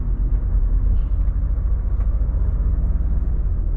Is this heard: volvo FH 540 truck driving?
yes